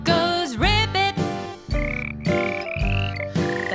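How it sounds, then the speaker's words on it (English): A frog croaks "ribbit" in a toddler nursery song, a few rising croaky calls over steady cheerful music, near and prominent. "The frog goes ribbit."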